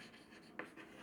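Marker or chalk scratches across a board during a lesson, a faint continuous scribble with one brief sharper stroke, heard quietly and alone.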